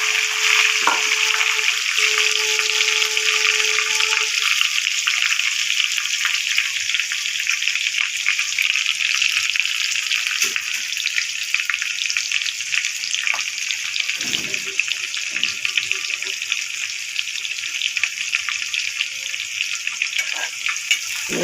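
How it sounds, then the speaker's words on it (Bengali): Onion fries in a pan for a Korean-style spicy chicken dish, a steady loud sizzle with occasional scraping stirs, close up and continuous throughout. "এবার পেঁয়াজটা দিয়ে দিলাম"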